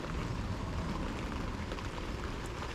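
Rain pours steadily at a carp fishing lake, an unbroken close hiss of drops hitting the surroundings with no talking.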